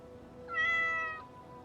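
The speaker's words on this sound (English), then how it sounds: "I should add another meow sound, I reckon." A single cat meow plays as a sound effect in Factorio Nullius, one clear rising-and-falling call lasting about half a second over a quiet background.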